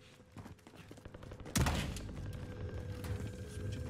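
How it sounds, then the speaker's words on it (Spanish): A sudden loud burst of gunfire in Call of Duty: Warzone cracks out, then a rumbling echo fades into a low, busy background. "estoy escuchando disparos"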